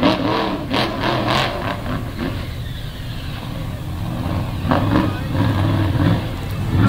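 Monster truck at a night Monsters vs Megas show in West Lebanon, engine roaring and revving continuously as it flips and slides, loud and steady with rising bursts, under an announcer's talk.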